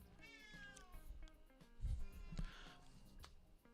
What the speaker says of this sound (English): he's meowing in the background